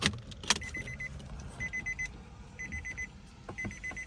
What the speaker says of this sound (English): Go ahead and put the key in and start the vehicle.